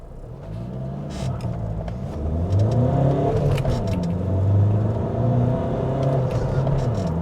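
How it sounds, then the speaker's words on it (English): A Ford Transit van engine revs and accelerates steadily up through the gears, a loud mid-pitched rumble rising and falling with no talk over it. "it's a decent accelerating van"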